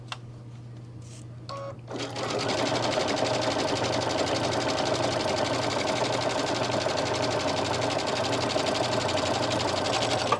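A sewing machine runs steadily and loudly for about eight seconds while stitching a garden lattice clutch bag, its fast, even mechanical whir starting after a brief quiet handling moment.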